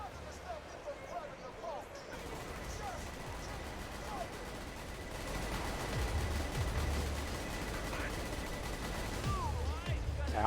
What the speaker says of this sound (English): we're supposed to be only shooting once every 3 seconds, but instead we're doing probably about 20 a second